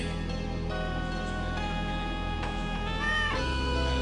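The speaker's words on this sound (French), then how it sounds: "où le chat est arrivé." A cat in a dark, eerie setting gives a drawn-out meow over a low sustained drone, fairly close and clear, with no one speaking.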